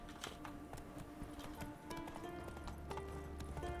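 Horse hooves clip-clop steadily on the ground in the Witcher 3 video game, a brisk rhythmic trot heard over a continuous game soundtrack with occasional tonal chimes.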